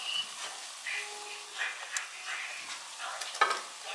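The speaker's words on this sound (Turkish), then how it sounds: "Kavurdum." Tomato paste sizzles and fries in a pan while a spoon stirs it, giving a steady close crackle with occasional scraping clicks, alone with no talk.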